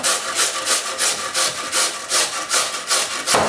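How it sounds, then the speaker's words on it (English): White radish (mooli) is grated by hand for paratha filling, giving about seven rhythmic rasping strokes close up with no talk. "Just going to grate it."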